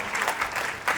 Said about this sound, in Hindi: एक बार जोरदार तालियां बजाइए भाई।